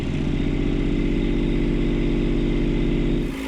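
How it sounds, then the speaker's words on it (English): A cold Kubota diesel engine idles in a Saturn car, its steady, loud, close-up rumble running continuously with a slightly uneven beat before easing off at the very end. "So the diesel engine's cold and the idle tends to jump around a bit"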